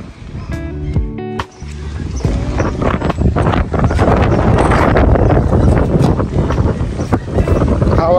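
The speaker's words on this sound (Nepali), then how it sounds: "हावा एकदमै धेरै चल्दैछ" Strong wind buffeting the microphone at a lake on a hike, a loud continuous roar and rumble that builds after a brief quieter start.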